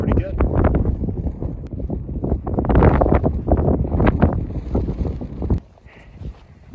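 Wind sweeps across an exposed desert hiking trail in New Mexico's Ojito Wilderness, buffeting the microphone with a loud, rumbling roar that drops off sharply near the end.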